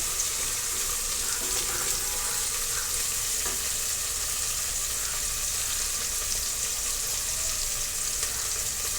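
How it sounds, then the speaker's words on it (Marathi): Vegetables for Maharashtrian masale bhat roasting in oil over a medium gas flame, a constant, even, close sizzle with faint occasional stirring scrapes and no talking. "तेलामध्ये हे मी मीडियम गॅसवरतीच भाजून घेत आहे"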